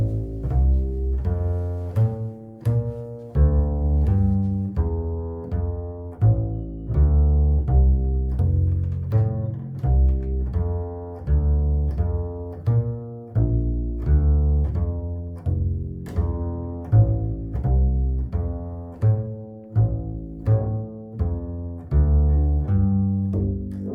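A walking bass line is played alone on bass, a steady stream of plucked, resonant low notes at an even pulse with no talking over it.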